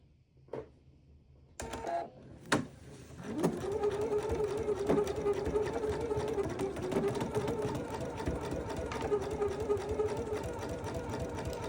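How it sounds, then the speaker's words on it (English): A sewing machine runs a quarter-inch seam along the raw edge of a fabric tube, starting after a few clicks and thumps, then whirring steadily and close, with back stitching at the ends and no talking. "we are gonna sew along the raw edge of the tube that we made, or burrito that we made, at about 1/4 inch seam allowance"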